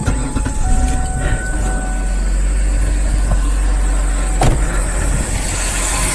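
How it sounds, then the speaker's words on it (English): A car engine idling smoothly after a fix for rough idle, stalling and hesitation, heard from inside the car as a steady, loud, low hum with a faint whine over it and no one talking. "Look how smooth that thing's idling now."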